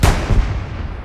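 A single heavy artillery blast in the Hell Let Loose video game, a loud close boom with a rumbling tail that fades over about a second.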